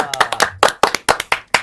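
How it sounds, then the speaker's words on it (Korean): A studio audience on a Korean broadcast talk show claps in a short burst of about eight distinct, loud, close claps, each ringing briefly, with a slightly uneven rhythm. "박수!"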